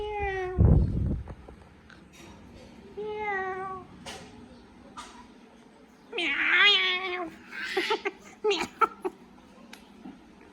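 A cat meows repeatedly in a home, with several drawn-out mewing calls spread across the stretch, interleaved with a voice talking and imitating the meow.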